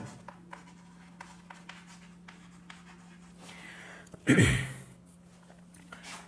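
Notes are written during a physics lesson on force and mechanical equilibrium: faint, scattered scratchy strokes over a steady low hum, with one louder rustling burst near the end.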